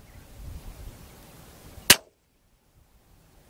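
A single sharp crack from a Tikka T1X .22LR rifle on an outdoor range, loud and close, with soft background noise before it and near silence after.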